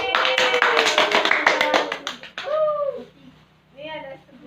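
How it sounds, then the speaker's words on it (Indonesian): A classroom claps for a student, a dense burst of hand claps lasting a couple of seconds that fades out, followed by a teacher's voice. "Ya bagus, tepuk tangan untuk Jaki."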